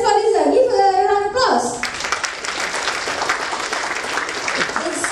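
Someone speaks briefly before an audience at a business session bursts into warm applause for their club president, the clapping sustained and filling the rest of the moment.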